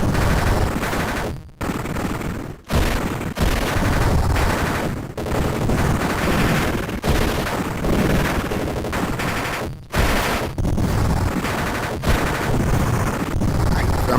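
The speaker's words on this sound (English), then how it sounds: "I'm standing in front of you shooting with a machine gun." Rapid machine gun bursts from the General Chaos video game rattle loudly and almost without pause, broken by a few brief gaps, with faint voices underneath.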